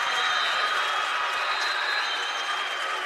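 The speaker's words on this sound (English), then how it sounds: "Crowd up on their feet." Volleyball crowd on its feet after the Bulldogs win a home women's match against Trine University 3-1, a steady dense roar of cheering and applause filling the gym, loud and continuous throughout.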